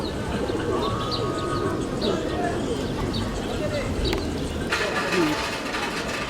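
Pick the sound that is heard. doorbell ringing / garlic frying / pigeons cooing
pigeons cooing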